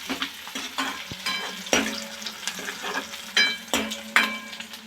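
Moong medag mixture sautéed in oil in a pan, with repeated close scraping stirs over a continuous sizzle in an irregular rhythm, no talking.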